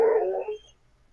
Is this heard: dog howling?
yes